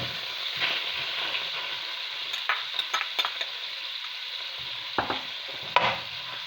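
Garlic, onions and peppers sizzle softly in butter and oil, a steady faint fry with a few sharp clicks and scrapes of a stirring utensil against the pan.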